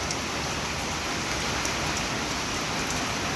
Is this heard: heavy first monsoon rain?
yes